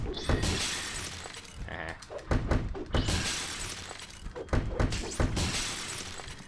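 Glass barriers shattering repeatedly in the video game Spider-Man 2, loud bursts of breaking glass mixed with thuds in a rapid, irregular series, each crash trailing into a bright tinkling wash.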